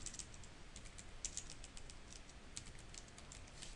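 Rapid, light clicking of keys on a computer keyboard as search keywords are typed, a continuous patter of close, crisp keystrokes with no voices.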